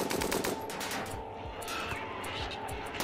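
Gunshots in RimWorld on an extreme desert map, a steady stream of quick rapid-fire pops running nonstop at moderate loudness over a constant background hum.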